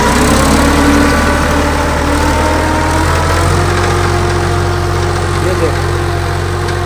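An old tractor ploughing deep furrows gives a steady, loud engine drone with a low, continuous rumble, heard up close. Someone speaks briefly over it.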